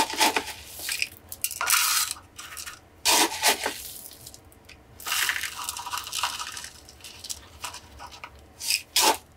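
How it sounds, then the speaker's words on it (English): Old roots and soil being ripped off a struggling succulent during repotting, a series of close crunchy tearing and crumbling bursts with short pauses between them. "I am actually gonna rip off all of these kind of roots and soil that were here"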